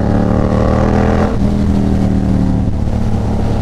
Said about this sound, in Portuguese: Nossa, a moto chega a dar pipoco.